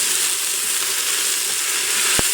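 Diced beef browning in a hot pot for a stew, sending up a loud, even sizzle that holds steady, with a brief knock near the end.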